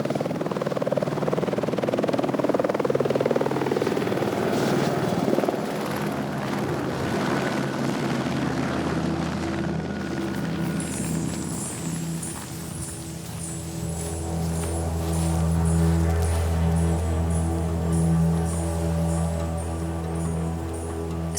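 A helicopter flies over remote canyon country in Madagascar's Makay, its rotor chop and engine drone loud at first, then fading slightly before a steady whining turbine tone rises again, continuous throughout.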